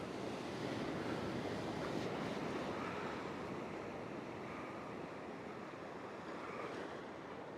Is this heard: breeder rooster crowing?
no